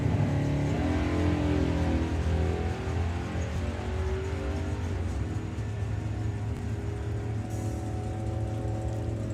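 An AMC Javelin drag racing car with a 355 cubic inch motor roars at the Easter Nationals drag racing meet, a loud, sustained engine note building steadily as it accelerates down the strip, heard alone without talk.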